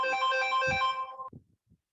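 A mobile phone ringtone plays a bright melodic tone for about a second in a classroom, then cuts off, followed by a couple of faint knocks.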